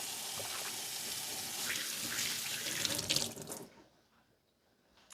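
Kitchen tap water runs steadily into a sink while hands are washed, a close, bright splashing gush that swells and then shuts off, leaving near silence.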